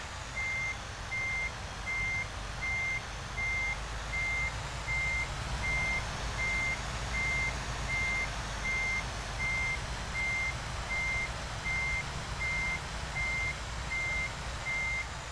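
In the Euro Truck Simulator 2 video game, a truck backing in sounds a steady, evenly spaced reversing beep over a low engine rumble, repeating for about fifteen seconds.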